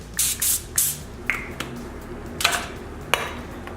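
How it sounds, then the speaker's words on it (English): Cooking oil sprayed from an aerosol can onto a cooking sheet: three short hissing bursts close up, followed by light clinks and taps of the sheet being handled. "A nice spray of some cooking oil."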